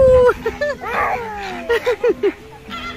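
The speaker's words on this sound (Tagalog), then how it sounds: "Tumatahol ka?" Dog yipping and barking at a zoo, several short high barks and whimpers in a quick series close by, with people talking over and between them.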